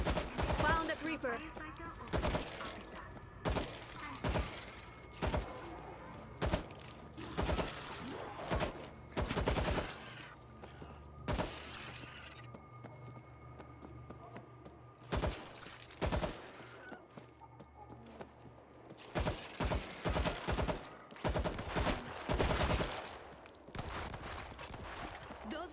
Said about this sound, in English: Those shots came from the highway.